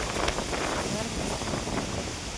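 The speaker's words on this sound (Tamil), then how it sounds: "பயங்கரமான காற்று." Strong, steady wind roars across the microphone in a coconut grove near a seashore during a stormy spell, with a continuous broadband rush and no voices.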